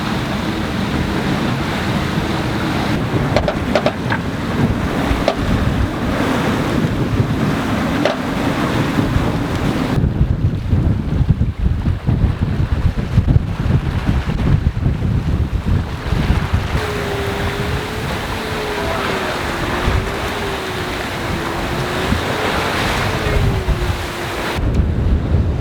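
Squall wind and waves on a sailboat in the West Indies, loud constant rushing wind buffeting the microphone over surging water, with a faint wavering tone drifting in later.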